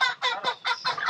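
Broiler chickens raised on the rooftop of an irrigation pump house in a remote field squawk and cluck close by, about five raspy calls in quick succession.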